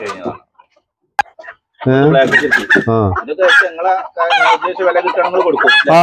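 Fancy chickens cluck and call loudly up close in a string of squawking bursts, with short quiet gaps between them.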